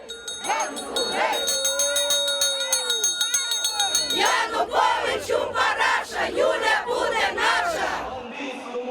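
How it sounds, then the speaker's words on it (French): An agitated crowd of political supporters shouts and chants outside a courthouse in Ukraine, loud and close, with overlapping voices and cries in dense waves, plus a bell-like ringing tone early on. "la police fait face à la foule déchaînée de ses partisans"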